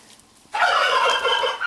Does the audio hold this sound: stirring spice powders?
no